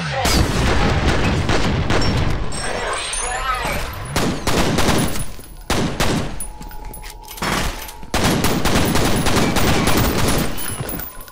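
Pistol fire rings out in the horror shooter F.E.A.R., with repeated sharp shots and bursts over a loud, dense battle din, while someone talks over the action.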